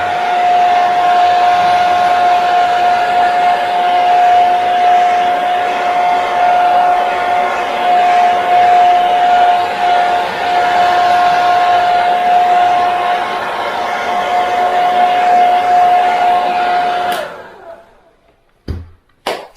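A heat blower runs steadily, held close against fine line tape to cook it down, giving a loud continuous airy roar with a faint tonal whine for about seventeen seconds before cutting off, followed by a few brief clicks.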